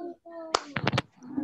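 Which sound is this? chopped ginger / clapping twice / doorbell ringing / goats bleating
clapping twice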